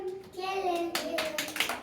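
Children clapping their hands during a word game, a few quick bursts of claps mixed with young voices and a sustained vocal tone.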